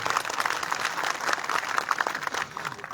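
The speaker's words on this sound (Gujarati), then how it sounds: "એકવાર જોરદાર તાળીઓના નાદથી તો વધાવવા પડે" Crowd applause welcoming a legislator at a village reception in Pipli, Visavadar, with drums and firecrackers nearby; dense steady clapping runs for a few seconds at moderate loudness before tapering at the end.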